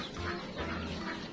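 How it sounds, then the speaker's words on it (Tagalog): Mother hen feeding, giving soft low clucks in short repeated bursts close by over a steady background, with no talking. "So lakas kumain nitong inahin"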